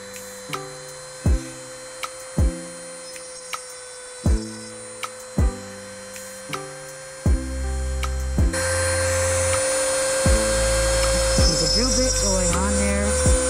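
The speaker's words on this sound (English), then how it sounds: "Got a diamond bit on that." A power drill with a diamond bit whines in short repeated bursts with pauses between, then settles into a longer, louder continuous grinding run through a seashell.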